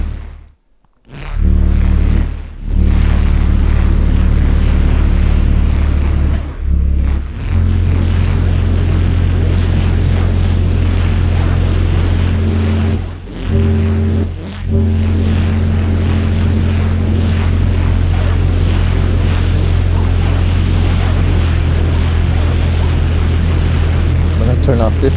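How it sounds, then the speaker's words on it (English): A synthesizer holds sustained low notes with one note detuned, giving a slow beating wobble, loud and continuous, with a brief dropout near the start and small dips partway through. "So I detuned one note on this. It sounds better because you get this kind of wobbling."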